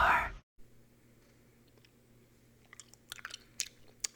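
Gum chews softly and wetly up close, with faint sticky clicks and smacks growing more frequent toward the end after a brief loud opening burst.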